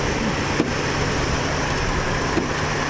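A 1979 Dodge D100 step-side pickup truck with a leaking carburetor or fuel pump runs steadily at idle, a continuous even engine drone close by with no talking.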